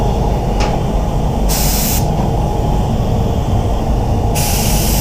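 A spray gun hisses loudly and continuously while laying silver basecoat onto a truck tailgate, with brief bursts of sharper air noise as the trigger is worked.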